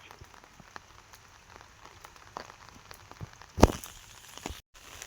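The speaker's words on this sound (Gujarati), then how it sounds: "આજે ખૂબ જ વરસાદ પડી રહ્યો છે" Heavy rain falls in a soft, steady patter on surfaces, with scattered sharper drops and one louder splat near the end, no talking heard.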